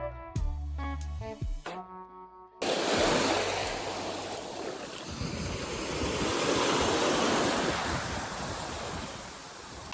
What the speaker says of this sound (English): we're staying right at the beach